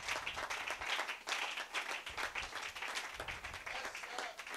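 Congregation at a French-language church service applauding together, a dense steady wash of many hands clapping throughout, fairly loud and close, with faint voices mixed in.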